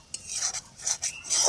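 Ash gourd curry being stirred in a pan: a few quick, close scraping and rubbing strokes of a spoon against the pan in short bursts.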